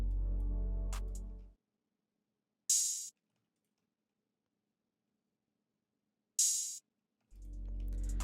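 Ambient trap-style beat with an added open hi-hat: a bass-heavy pad cuts out, two bright isolated hat hits ring in the gap, then the low beat returns.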